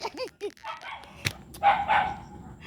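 A dog barks and yips a few times close by, with a person talking over and around the barks.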